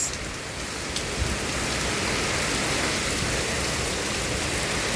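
Heavy rain driven by wind pours down in a steady, dense roar, close and loud, without a break.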